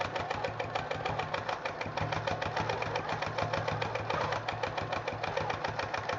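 A sewing machine stipples a quilt in cruise mode, its needle hammering in a fast, steady, even rhythm up close, unbroken across the whole stretch.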